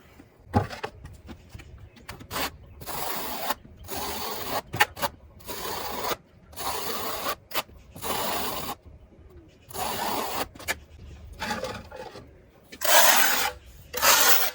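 Notched trowel scraping and re-notching tile mortar, in repeated rough rasping strokes separated by short pauses, close and fairly loud, no talk.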